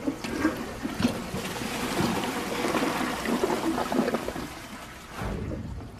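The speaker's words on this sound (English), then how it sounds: "And flush." A Champion 4 toilet flushes in a bathroom, with a strong, sustained rush of swirling water that runs for several seconds, then a brief gurgling drain and refill toward the end.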